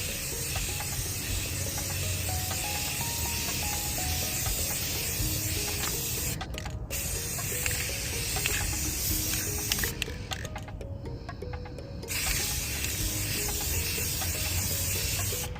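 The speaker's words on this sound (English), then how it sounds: "I'm going to use this right here to spray on the back" An aerosol spray can of gloss hisses in long, steady bursts with a few brief pauses, while a stepping melody plays faintly underneath.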